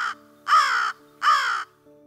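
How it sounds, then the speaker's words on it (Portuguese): A family of crows that a man feeds, giving loud close harsh caws, three in a row with the second and third long and drawn out, alone with no other sounds. "Se os pássaros estão realmente famintos, eles apressam o Stuart com um grasnido persistente."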